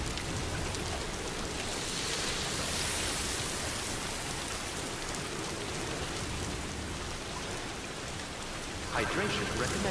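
Timefall rain in the video game Death Stranding 2, a steady dense hiss of rainfall pattering on surfaces that holds evenly throughout, with a faint tonal cue near the end.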